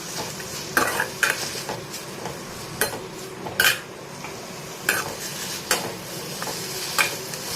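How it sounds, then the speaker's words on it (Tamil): Onions and tomatoes sautéed in a pan for tomato kulambu, a steady sizzle broken by repeated scraping strokes of a spatula against the metal at an irregular rhythm. "வெங்காயம் தக்காளியை நல்லா வதக்கிக்கோங்க"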